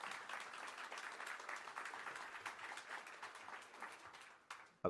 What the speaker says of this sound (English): If you could please give her a round of applause